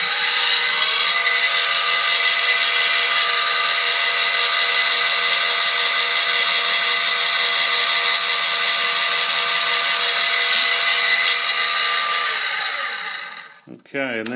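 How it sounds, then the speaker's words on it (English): Drill bit cutting a pilot hole in aluminum on a SIEG X2D benchtop milling machine with cutting fluid, a loud, steady high-pitched whine held for about thirteen seconds before the motor winds down and stops. "there we have our pilot hole drilled"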